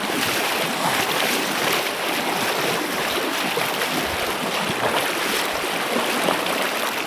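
River water rushes steadily while someone wades across a river on the way to a cassava garden, a continuous, broad splashing flow that stays even and close throughout with no talking.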